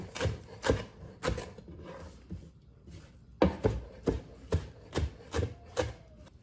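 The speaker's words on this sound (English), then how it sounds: "we are going to chop up some fresh parsley" Knife chopping fresh parsley, stems included, on a cutting board: a run of sharp, close, evenly paced thuds and scrapes, pausing briefly midway before a quicker steady burst.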